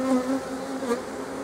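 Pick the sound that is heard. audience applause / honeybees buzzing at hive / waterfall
honeybees buzzing at hive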